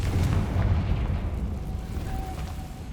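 A Confringo fire spell detonates in Hogwarts Legacy, a loud, sustained low boom and rumble filling the whole moment, slowly easing off, with a faint magical whine rising in the background.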